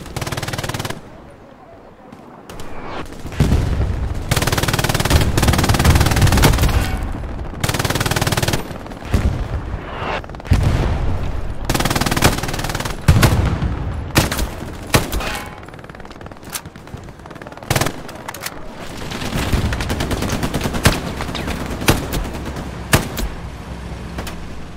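Machine-gun fire from a shooter game with a scoped FG42 on hand: long rattling automatic bursts broken by short pauses, loud and close, with scattered extra shots and occasional talk in between.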